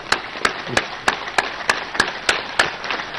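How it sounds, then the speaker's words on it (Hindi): Audience clapping hands loudly and in unison during a kirtan, nine sharp claps in a steady rhythm about a third of a second apart, close and crisp with no talk. "ऐसे तेज 2 मिनट ताली बजा लो ना, ऐसे कीर्तन कर लो ऐसे"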